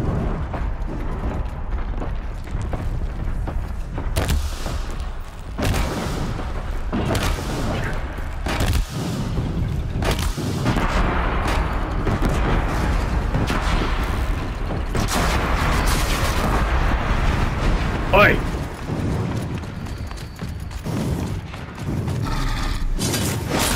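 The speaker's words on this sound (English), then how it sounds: "Let's see how pissed off I can make this thing simply with a few sticky bombs." Sticky bomb explosions in the video game GTA, a run of loud booming blasts and rumbling detonations over continuous mechanical game noise, dense and overlapping for over twenty seconds.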